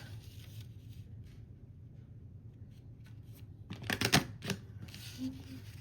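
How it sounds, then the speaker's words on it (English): Paper punch clicking through paper edges during junk journal crafting with vintage bird themed papers, a short cluster of sharp crisp clacks near the end after quiet rustling. "Sometimes this is a weird angle to do paper punching."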